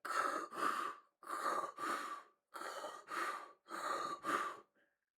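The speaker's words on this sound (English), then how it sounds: "breathing heavy as hell" Heavy, ragged breathing close to the microphone: four pairs of loud, rasping in-and-out breaths separated by short pauses.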